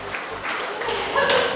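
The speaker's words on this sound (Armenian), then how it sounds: "Մի հատ կարանք չէ ծափեր տանք Ռիմայի համար, բարձր ու գեղեցիկ" Brief burst of hand clapping from a small group welcoming Rima at a surprise birthday gathering, close and lively, with voices mixed in.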